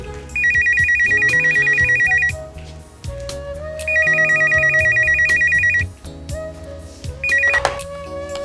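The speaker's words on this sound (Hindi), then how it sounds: "मेरे घर में किसका फोन आ गया?" A telephone rings in three bursts of electronic trilling, the last one cut short, over quiet background music.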